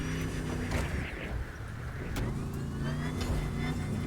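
Road traffic cars in the racing video game The Crew 2, engines droning and passing close with rising and falling tones, a continuous near roar of several vehicles with no voices over it.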